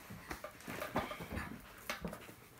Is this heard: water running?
no